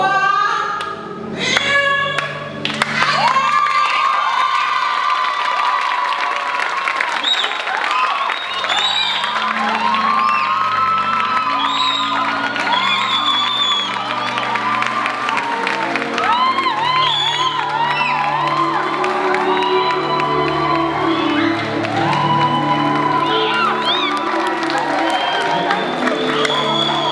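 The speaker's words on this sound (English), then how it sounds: "A round of applause" Audience at a summit finals event in a hotel hall applauding and cheering, with whoops and shouts over sustained clapping, loud and continuous with some voices mixed in.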